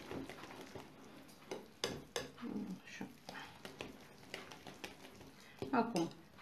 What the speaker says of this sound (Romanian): Amestecăm așa bine.